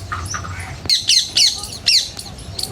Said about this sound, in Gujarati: આમાં કાં પોપટ બોલી રહ્યો છે